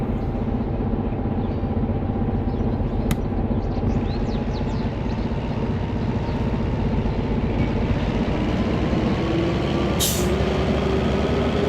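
Train brakes in the Derail Valley railway simulator, a loud continuous hiss of releasing air over a low rumbling drone that holds steady for the whole stretch, with a brief sharp squeal near the end.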